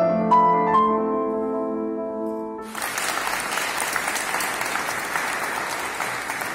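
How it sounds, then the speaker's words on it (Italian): Sustained organ chords in a church ring out and fade, then a broad wave of steady audience applause fills the space and continues evenly to the end. "naturalmente gli applausi dei presenti"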